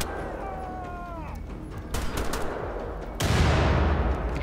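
Rapid bursts of gunfire in Wolfenstein: The Old Blood, sharp cracks and booms at moderate volume, with a rising whine early on and a heavier blast near the end.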